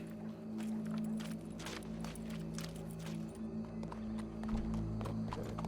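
Horse hooves clip-clop steadily in Red Dead Redemption 2, a run of close, regular hoof strikes over a constant low ambient drone of the game world.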